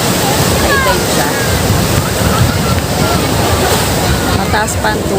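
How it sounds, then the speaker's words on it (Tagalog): Large high-tide ocean waves wash and slosh steadily close by on a beach, a continuous loud surf with voices talking over it. "ngayon ay high tide, ayan, kaya malalaki ang alon"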